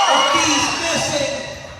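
A basketball crowd on its feet, cheering in a continuous, loud, dense roar that swells slightly and then eases, with no distinct voices standing out.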